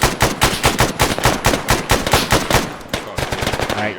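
Automatic gunfire in Arma 3 rattles out in loud, rapid bursts of close shots. The rhythm is steady, there is a short break near the end, and no one speaks.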